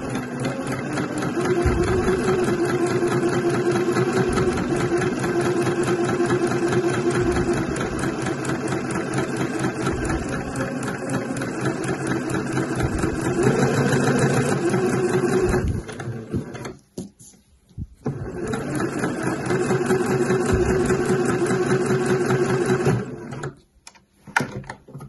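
Sewing machine running gathering stitches around a velvet sleeve head, a continuous close mechanical chatter and hum that stops briefly twice near the end, with no talking.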